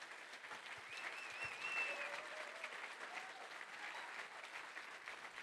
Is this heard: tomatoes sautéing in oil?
no